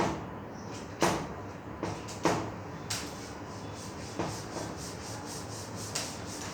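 Rubbing out writing on a board during a maths lesson: repeated scrubbing strokes in short bursts, about eight over several seconds, moderately close and fairly loud, with no talk over them.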